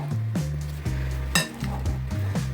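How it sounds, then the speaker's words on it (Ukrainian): Sugar-free apple dessert mixture being stirred in a bowl, with steady scraping and knocking strokes in a loose rhythm, close and fairly loud, with a few clinks of the utensil against the bowl. "Так, гарненько перемішуємо."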